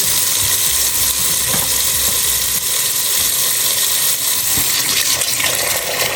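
Tap water runs steadily into a pot at a kitchen stove while ramen is being made, a continuous broadband rush with faint clinks, close and loud throughout.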